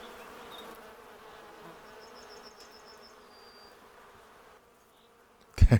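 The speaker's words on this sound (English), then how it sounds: "We're not kidding around with those bees." Bees buzzing in the video game The Beekeeper's Picnic, a soft, steady insect drone for several seconds with a brief high tone, then a short sharp knock at the end.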